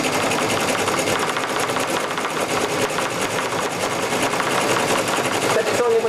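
Embroidery sewing machine stitching out a design, a loud, steady, rapid mechanical clatter that runs without a break, with voices talking over it.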